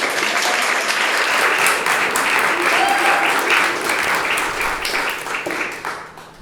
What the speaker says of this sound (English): please give a round of applause for Mallory.